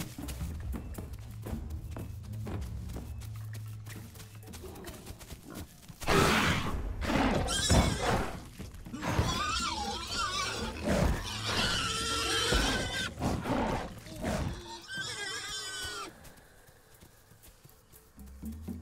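A pig in The Isle survival game panics under attack, squealing and thrashing in a loud burst of agitated cries and scuffling over footsteps and ambient game sound.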